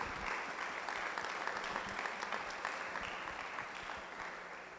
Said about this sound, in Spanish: damos la bienvenida a nuestro hermano Toño con un abrazo y un fuerte aplauso.